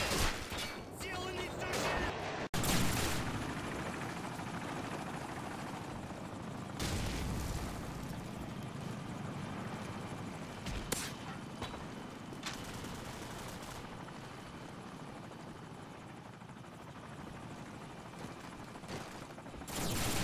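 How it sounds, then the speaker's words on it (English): An airstrike and gunfire in Call of Duty 4 on PC bring heavy booms and rolling explosions, with intermittent loud bursts over a constant rumble of battle noise. "Friendly airstrike on the way!"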